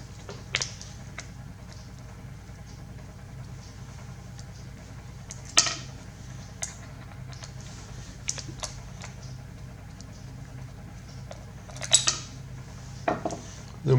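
Small metal plates and screws clicking and tapping as Wahl clipper blades are taken apart with a little screwdriver, a few sparse, close, faint clinks over quiet room hum.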